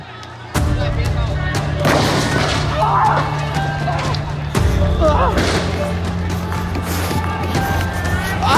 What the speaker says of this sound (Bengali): গুলি করে।